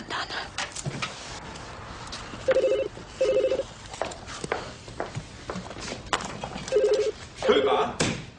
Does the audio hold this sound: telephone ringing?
yes